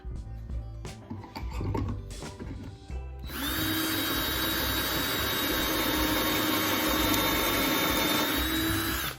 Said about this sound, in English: I need to get a drill, and I need to use this particular bit because it has a stop on it to go down just the right amount